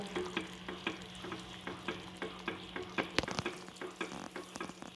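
A brown sugar mixture bubbles vigorously in a pan on the stove, with rhythmic stirring scrapes and popping bursts repeating about twice a second over a continuous sizzle, close and fairly quiet.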